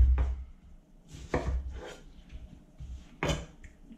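Knife chopping onions on a cutting board, four distinct firm chops spaced irregularly, close and fairly clear with no talk.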